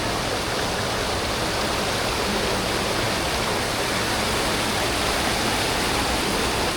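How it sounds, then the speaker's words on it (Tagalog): A river rushes over rocks at a camping resort in Magallanes, Cavite, a steady, loud, unbroken wash of water close by with no voices. "Ganda ng ilog dito, parang rosepot pa."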